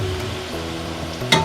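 Fried onions and hot oil poured over a mutton roast for Bengali New Year sizzle in a steady, close, crackling hiss, with a brief louder clatter near the end.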